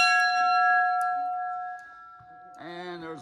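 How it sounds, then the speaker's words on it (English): Bell on a 1925 American LaFrance fire truck rings out with a sustained, ringing tone that slowly decays, followed by a short burst of a second bright, warbling ring near the end. "Oh, there's the bell again."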